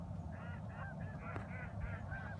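Waterfowl out in front of a duck hunter honk in a quick, steady series of nasal calls at moderate distance, over a constant low rumble of wind or water.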